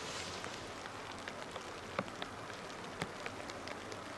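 Rain falling outdoors, a faint, steady wash of patter with scattered sharper drops ticking on a nearby surface, no voices.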